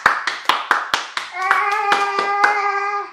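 A few hands clapping in a loose, uneven rhythm for performers of a Pepsi cricket anthem, close and sparse rather than a full crowd, with a sustained musical tone sounding underneath partway through.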